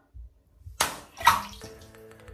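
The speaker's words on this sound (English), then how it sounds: "And then you simply just wash it away in the water." Water sloshes and splashes as dead skin is rinsed off feet in a basin during an at-home pedicure, a couple of close, brief wet splashes followed by soft dripping.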